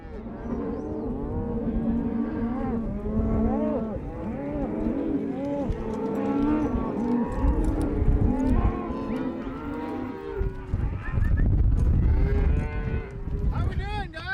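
A herd of cattle on a Montana cattle drive at Dryhead Ranch moos and bellows continuously, many overlapping calls near and far, with low rumbling movement underneath and occasional heavier bursts toward the end.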